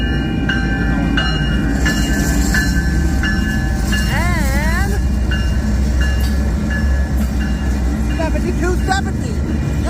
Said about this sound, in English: Union Pacific is the leading locomotive.